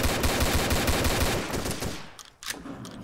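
Rapid automatic gunfire from the video game Codename Cure, a dense, loud stream of shots for about two seconds, then a brief lull before another burst of firing.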